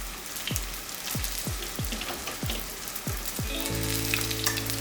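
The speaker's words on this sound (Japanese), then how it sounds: "このフライパンを傾けて油を動かしながらまず片面揚げ焼きにしていきます" Bite-sized bonito and cheese spring rolls shallow-fry in oil in a tilted frying pan, giving a loud, steady crackling sizzle with a few sharp pops, and a low hum rises in the last second.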